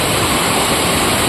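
A rain-swollen river rushes steadily through Banganga village during heavy monsoon rain, a dense, continuous roar of flowing water close by with no pauses and no voices.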